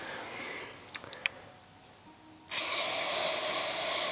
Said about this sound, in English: Bit of carb spray.